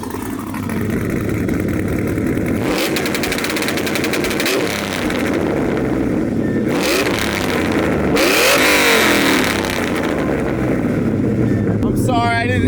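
An LS1-powered Chevrolet Silverado with a T56 manual gearbox revs repeatedly on two-step launch control, loud rising and falling engine bursts close by, with wind buffeting and voices in the background.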